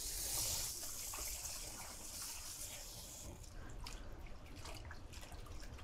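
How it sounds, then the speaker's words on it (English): Cold water runs into a bowl of leafy greens and is swished around to loosen grit, a steady close wash of running and splashing water with small drips, no talking. "I'll fill up the bowl with some cold water, and I'll just start swooshing"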